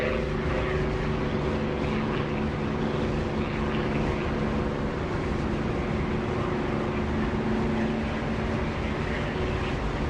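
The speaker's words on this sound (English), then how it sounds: "I don't think you get that with the DCS engine sound" A simulated aircraft engine from the flight game DCS drones steadily, a loud continuous propeller-like hum with sustained low tonal layers and broad noise, unchanging and with no talking.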